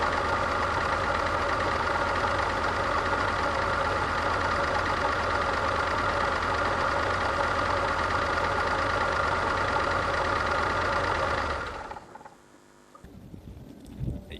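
A Renault Alpine V6 Turbo engine with a leaking coolant sub-tank idles steadily at close range, a loud, even rumble with a rattling edge that cuts off near the end, leaving quiet clicks.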